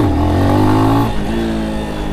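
A Lifan X-Pect enduro motorcycle's engine revs loud and close, climbing in pitch, then dropping off sharply midway to a lower running note.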